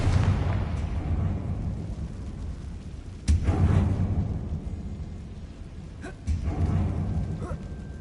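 A Confringo fire spell in Hogwarts Legacy, set in a closed mine, bursts as a deep rumbling blast with booming impacts and a low roaring tail, followed by further thuds, loud and close.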